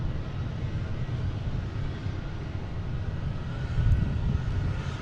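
A FedEx plane departing Boston Logan airport, a distant low broadband engine rumble and roar, steady and fairly quiet with a slight swell near the end, no voices.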